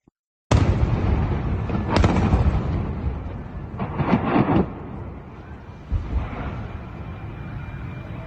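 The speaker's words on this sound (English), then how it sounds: "Israel bombing Damascus." Israeli bombing of Damascus sets off heavy explosions after a moment of silence: a loud first blast, a second boom, then a cluster of rumbling detonations fading into a long, lingering roar with further distant thuds.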